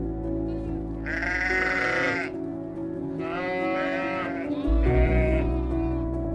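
Sheep bleat on a windswept Faroe Islands hillside, three drawn-out wavering calls one after another over steady wind rumble, fairly close and clear.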